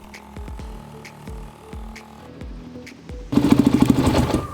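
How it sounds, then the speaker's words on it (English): A Honda XR400 motorcycle engine idles while warming up, a steady thumping putter nearby that turns into a louder, rougher burst near the end, with no talk. "Let the engine run for some time to warm up."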